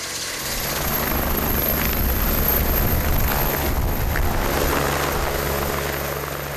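A rescue helicopter flies close by over snowy terrain, its loud rotor thump and engine whine steady and continuous throughout.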